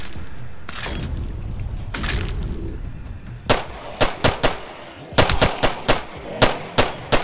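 Gunfire in The Last Stand Aftermath, a PC game: a run of sharp, loud shots, scattered at first and then coming in quick clusters, with a busy game-noise bed underneath.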